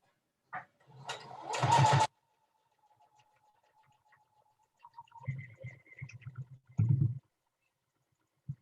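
A sewing machine stitches nested seams on a quilt block for a Courthouse Steps pattern, running in a few short, close bursts with quiet pauses between them and no talking.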